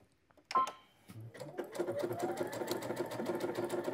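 A sewing machine with sideways fabric feed runs a decorative stitch, starting with a sharp click and a short pause before settling into a steady, close, rapid needle rhythm that continues to the end.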